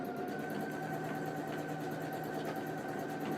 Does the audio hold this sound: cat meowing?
no